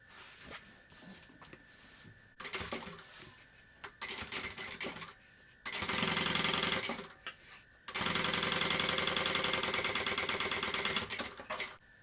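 A sewing machine top stitches through a backpack's lining in bursts: short stop-start runs at first, then two longer sustained stretches of rapid, buzzing needle clatter, close and fairly loud.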